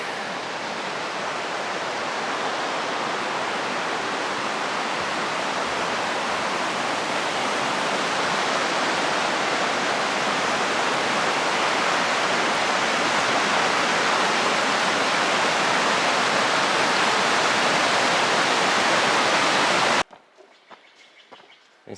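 Bear Creek rushes loudly along a mountainside on the Pacific Crest Trail, a dense unbroken roar of flowing water that holds steady for about twenty seconds and then cuts off abruptly into quiet.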